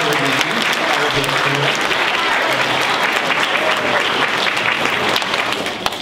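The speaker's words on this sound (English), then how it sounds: "I want to make sure we give a rousing applause for Mrs. Welch for planning and coordinating" Audience applause at a 2019 school spring choir concert, a dense, steady wash of many hands clapping for about six seconds before tapering slightly at the end.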